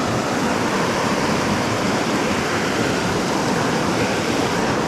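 Water of a mountain trout stream flows steadily and close, a constant dense rushing with no pauses or voices for the whole stretch.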